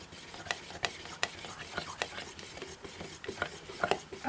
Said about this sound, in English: I got my stirring stick right here. Give it a good stir.